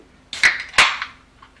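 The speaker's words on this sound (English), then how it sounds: "Crack open that can of Coca-Cola." A can of Coca-Cola is cracked open with two quick sharp snaps: the tab clicks and a short fizzing hiss follows, close and clear with no talking.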